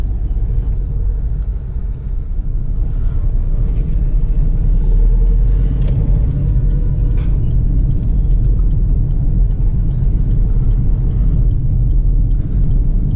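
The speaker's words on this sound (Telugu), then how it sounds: "ఇప్పుడు నేను సెకండ్ గేర్లో వేసాను, అయినా పవర్ ల్యాగ్ లేకున్నా కానీ మనకి వెహికల్ మూమెంట్ అనేది చాలా గుడ్లో ఉంది" Interior rumble of a Volkswagen Vento car driving in second gear, a loud steady low engine and road drone that holds an even level throughout, with no talking.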